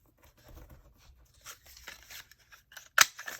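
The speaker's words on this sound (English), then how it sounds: "So I'm just going to cut out another circle." Scissors snip through paper to cut out a circle for a handmade card, giving a few close, crisp cuts with faint rustling and a sharper final snip.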